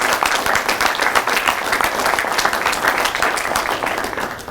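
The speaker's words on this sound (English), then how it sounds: "can I please get a round of applause for the staff that put all this on for my folks?" A ceremony crowd gives the event staff a round of applause: brisk, dense clapping at full strength throughout, loud and close, easing only slightly at the very end.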